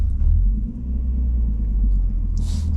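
A 2004 Nissan 350z engine gives a deep, steady, loud rumble from inside the car as it pulls, with a brief hiss near the end.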